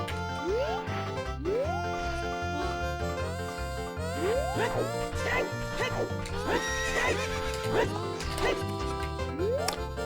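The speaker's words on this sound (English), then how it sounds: "Don't you guys love the horses?" Horses whinny repeatedly at Lon Lon Ranch in the video game Ocarina of Time, several rising neighs over a steady musical background with faint clip-clop.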